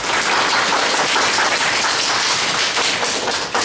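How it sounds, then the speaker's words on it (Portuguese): Dense, steady applause from an audience fills the room for a child at an author's school reading event, continuous clapping without talk. "Palmas para ti."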